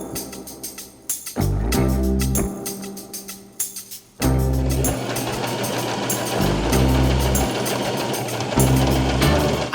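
A home sewing machine stitches scrap fabric in bursts of fast, even, rattling stitching. It stops briefly between runs, then starts again for a longer steady stretch, loud and close.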